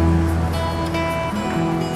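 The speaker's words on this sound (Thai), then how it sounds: "อันนี้ก็เป็นคล้ายน้ำตกเนาะนี่ครับ" Artificial waterfall water feature at One City Centre, a tall landmark tower in Thailand, giving a loud, steady rush of falling water with a faint hum behind it.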